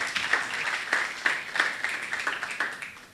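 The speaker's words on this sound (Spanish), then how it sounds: "le dedico un aplauso de todos ustedes" An audience at a renewable energy talk gives a short round of applause, with individual claps audible in a light, irregular patter at moderate distance.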